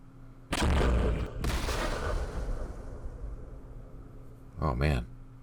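Mortars firing in the Vietnam war game Campaign Series Vietnam: a heavy blast with a long rumbling decay, then a second, shorter thump a few seconds later, both close and loud.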